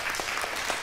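Short burst of audience applause at a panel event on young women in the skilled trades, steady dense clapping at moderate loudness.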